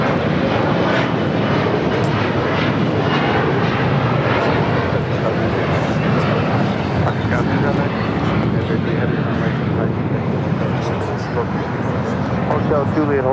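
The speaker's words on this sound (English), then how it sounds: "We just had the United Dreamliner arrive here on the south side." United Boeing 787 Dreamliner jet at LAX, a loud, continuous engine roar filling the whole stretch with a voice talking over it.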